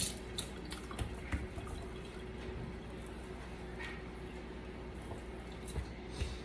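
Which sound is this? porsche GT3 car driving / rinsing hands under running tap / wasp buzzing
rinsing hands under running tap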